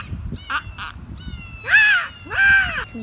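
A person outdoors imitating bird calls with the voice, giving two short nasal hoots followed by two longer, louder goose-like honks, close and clear over faint background noise.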